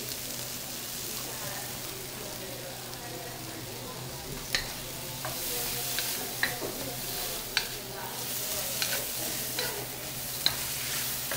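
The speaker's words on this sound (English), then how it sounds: "I'll probably mix it all together at this point, making sure that I keep those shrimp down on the heat." Shrimp for pad thai sizzle steadily in a hot pan while a utensil stirs and scrapes, a constant frying hiss punctuated by small clicks and taps, close and moderate in level.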